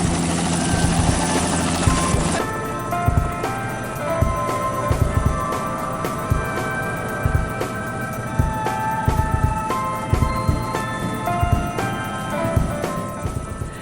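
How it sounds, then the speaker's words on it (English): A helicopter roars steadily up close, its rotor thumping in a fast, even beat over a constant engine whine. "We are about to go on a helicopter ride."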